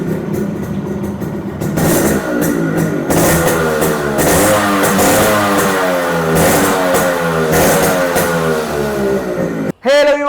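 A Yamaha RX135 two-stroke motorcycle engine starts and revs repeatedly, loud and close, with rising and falling pitch sweeps over a rough idle before cutting off abruptly near the end.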